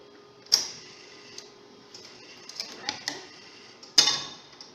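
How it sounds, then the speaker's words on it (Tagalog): Bank card going into an ATM, with sharp clicks and a mechanical tick at the start and again near the end, plus softer ticking and whirring between, close and quiet. "papasok natin yung card dun sa ATM machine"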